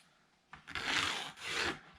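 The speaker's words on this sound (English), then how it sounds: "you can kind of scrape it along the edge" Paint pen dragged along the edge of a model, a gritty rasping scrape in two sustained strokes, close and fairly loud, with no voices.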